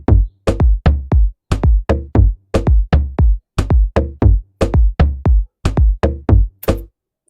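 A steady Afro house drum pattern of punchy kick hits and resonant tom strikes, repeating in a driving rhythm for several seconds, loud and alone.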